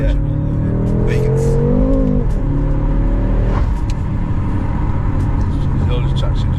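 A BMW M5 30 Jahre Edition accelerates hard with traction control cutting power, its engine roaring loudly and climbing through the revs before a gear change, heard from inside the cabin with steady road and tire roar.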